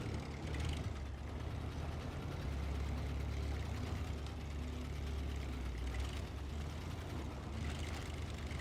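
Heavy Lodestar truck engine in SnowRunner rumbling steadily with a deep, continuous low drone and a gritty mechanical texture, loud and unbroken throughout with no talking.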